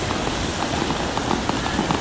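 Rain falls steadily on a street in Lille, France, a dense, even hiss of drops spattering on pavement close by and fairly loud, with no voices.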